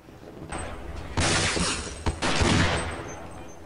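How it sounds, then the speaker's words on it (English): A grenade goes off in the Echoes mod with a loud, sustained blast that has rumbling and crackling layers. A second burst follows close after, and the noise then fades slowly. "Did you throw a grenade?"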